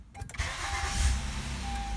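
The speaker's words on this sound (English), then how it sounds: "So I'm gonna start the car." A Honda Accord engine starts: the starter cranks briefly and the engine catches into a steady, low idle rumble close by.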